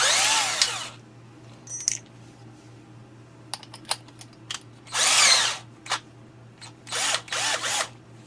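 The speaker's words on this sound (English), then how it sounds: "So what I need to do is drill out from the back using that as a pilot hole." A power drill bores a pilot hole from the back of a cabinet piece, several separate high-pitched bursts of whirring at close range with short gaps between them and no talk.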